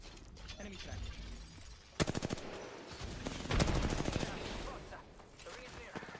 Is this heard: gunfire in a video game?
yes